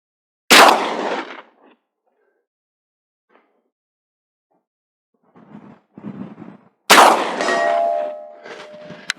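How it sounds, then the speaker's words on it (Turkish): Two loud, sharp 12-gauge slug shots ring out at an outdoor range toward a 100-metre target, each a sudden blast with a long metallic ringing decay, separated by quiet and a few soft handling noises. "100 metreye son olarak da 12 ile atıyorum"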